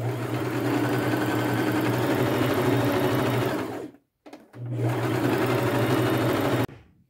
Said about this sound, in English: I am just going to sew this together